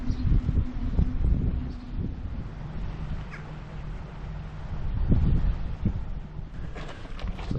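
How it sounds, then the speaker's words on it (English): Gusty wind on a Cornish coastal walk between Coverack and Kynance buffets the microphone in a low rumbling roar that swells and eases, with faint rustling mixed in and no speech. "It's a lot windier than I thought today."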